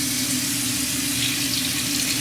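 Steady tap water runs continuously over a makeup brush at a sink, a close, even rushing hiss with no pauses or voices.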